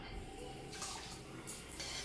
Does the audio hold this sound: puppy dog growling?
no